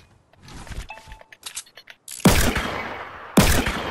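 Revolver shots in Fortnite: two loud, sharp, separate blasts about a second apart, each ringing out with a decaying tail, after a stretch of quieter in-game movement and footsteps.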